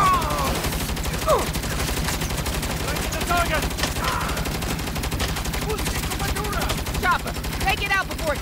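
Sustained gunfire in Saints Row (2022), rapid continuous bursts of automatic shots hammering loudly the whole time, with voices shouting over the fight.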